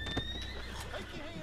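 A horse in the video game Red Dead Redemption 2 whinnies briefly and fairly faintly amid game ambience, while a person talks over it.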